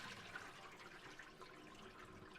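Cloudy rinsing water from soaked rice is poured out of a pot in a faint, steady watery pour, with no talking.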